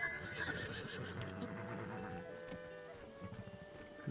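Horses in the Zelda: Tears of the Kingdom video game whinny over a busy layered game soundtrack, with hoof clip-clop and ambient effects running beneath the neighs throughout.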